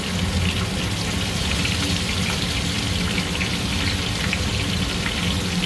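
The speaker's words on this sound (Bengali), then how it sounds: "মাছ ভাজা চালু, আধা মাছ ভাজা হয়ে গেছে প্রায়।" Fish fries in a pan with a constant, close crackling sizzle, dense and even throughout without pauses.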